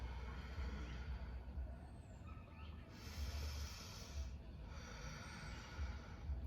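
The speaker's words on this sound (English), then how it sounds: "slow deep breath out" Slow, deep breaths taken during a seated yoga stretch, soft airy exhales rising gently out of a quiet room, with two longer, fuller breaths standing out.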